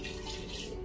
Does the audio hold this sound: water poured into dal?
yes